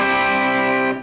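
A single distorted electric guitar chord rings out loud and thick for about a second before being cut off, with no voices over it.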